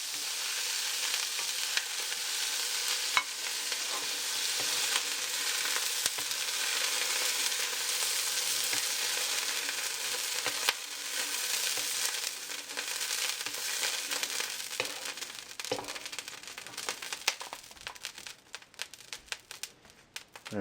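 Pork sears in a stir-fry pan with a constant loud sizzle and crackle, broken by occasional scraping and clatter of stirring, tapering toward the end, with no voices.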